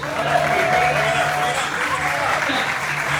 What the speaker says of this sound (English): He wants a bigger applause.